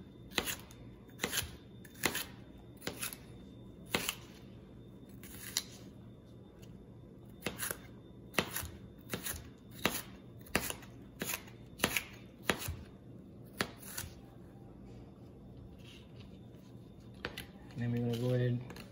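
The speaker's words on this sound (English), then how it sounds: "we're going to cut up our green peppers" A knife chops green peppers on a cutting board in a kitchen, making sharp, irregular knocks spaced over a quiet background, with a brief rustle near the end.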